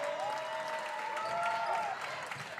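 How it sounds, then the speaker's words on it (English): Crowd at a boys varsity high school basketball game giving a standing ovation, sustained applause and cheering throughout with a whistle-like tone sliding across the middle. "Standing ovation given"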